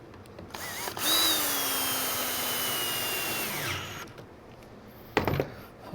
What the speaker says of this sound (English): These are 2-inch screws that I'm putting in here. We're going through a piece of 1-inch board here